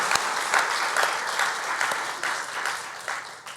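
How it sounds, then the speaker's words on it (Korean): A congregation at a Sunday service claps in celebration, a steady wash of applause from a moderately sized room with a few sharper claps standing out, fading slightly toward the end. "우리 감사하고 축복하는 박수 하겠습니다."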